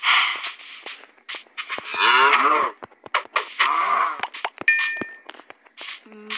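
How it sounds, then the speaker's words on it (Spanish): A cow in Minecraft gives two long, drawn-out moos, loud and close, amid short clicks, blocky footsteps and bright dings and clinks of in-game actions. "Parece que esa vaca estaba muy gordita."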